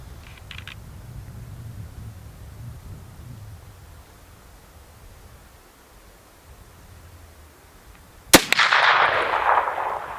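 After a long quiet stretch, a single loud report cracks out from a stout 40-caliber rifle with a 32-inch long barrel, followed by a rolling outdoor echo and decay.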